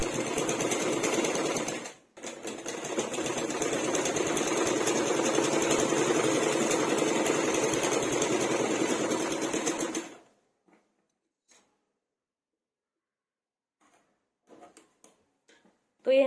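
A sewing machine stitches a yoke strip onto a blouse, running loud and close for about ten seconds with one brief stop near the start, then falls silent apart from a few faint handling noises.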